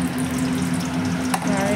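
Oil heating in a kadai, a close, steady sizzling hiss with a low hum beneath and one brief clink near the end, no speech.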